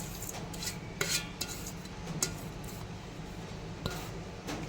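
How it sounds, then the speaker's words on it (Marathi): Chopped onion, coriander and green chili tipped into corn bhaji batter and stirred, a spoon scraping and clinking against the bowl in soft irregular strokes with wet squishing. "आता याच्यामध्ये आपण हे जे कांदा, कोथिंबीर आणि मिरची कापली होती हे टाकूया"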